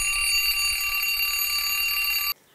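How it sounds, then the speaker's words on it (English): An alarm clock rings with a continuous bright electronic tone at 5 o'clock in the morning, loud and close, then cuts off abruptly near the end. "the alarm's gone off."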